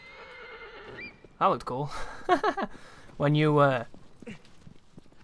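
In the Shadow of the Colossus remake, a horse gives several loud, close whinnies and snorts with light hoof sounds, while someone comments briefly between them.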